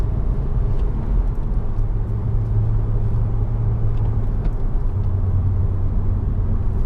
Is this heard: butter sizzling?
no